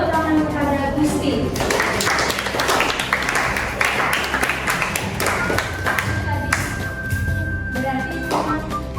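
An audience, likely a class of students, claps in applause for a few seconds, with loud, uneven clapping mixed with voices and cheering.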